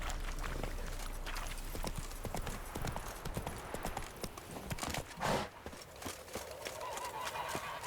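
Roach the horse galloping in The Witcher 3, rapid rhythmic hoof clip-clops close up and steady throughout, with a brief louder burst midway.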